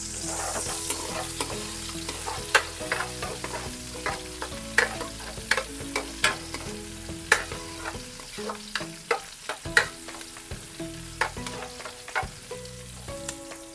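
Garlic and a medium onion sauté in a pan for Filipino nilagang pata, a steady close sizzle broken by repeated clanking spatula strokes against the metal, with no one speaking.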